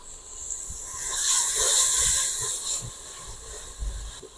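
Chopped masala and tomato frying in a pan with a little water added, a steady broad sizzle and hiss that swells in the middle and continues alone without talk.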